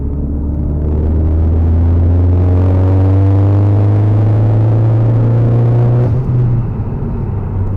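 A Ford Focus ST MK3 with a REVO Stage 2 tune accelerates hard in gear, its engine note climbing steadily as a loud, throaty rumble before easing off near the end.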